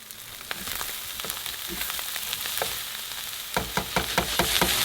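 Corn, red onion, jalapeno, garlic and cilantro sauté in a hot pan with a steady soft sizzle, broken near the end by a series of scraping clacks as the mix is tossed.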